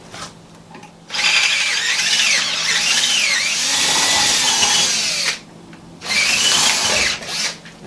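A power drill bores holes in the metal frame of a Bomford hedge trimmer in two loud, sustained whining runs with a short pause between them, close up.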